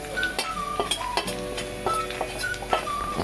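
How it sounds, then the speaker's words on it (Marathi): Grated coconut is stir-fried with onion in a pan for a black-eyed peas curry, making a steady sizzle broken by repeated scraping and clinking strokes of a spoon against the metal, close by and without talk. "खोबरं जरा परतून घेऊया।"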